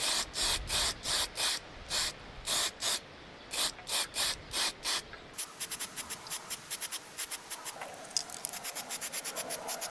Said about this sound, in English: I can now finish with a top coat of paint.